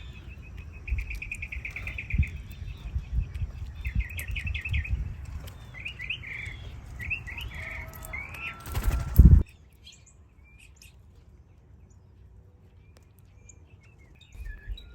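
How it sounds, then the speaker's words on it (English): At a backyard bird feeder with a tufted titmouse and cardinals, a series of quick, high chirps repeats in short bursts over a rustling background, ending in a brief loud clatter and then near-silence. "here's the tufted titmouse again. He's just a very small bird, and he takes one seed at a time."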